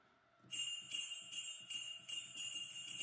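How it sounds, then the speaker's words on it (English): Bright jingling sleigh bells shaken in a steady rhythm, about eight crisp bursts, ringing close and clear with a shimmering high tail. "And so I used their handbells, which come with sleigh bells, which are awesome too"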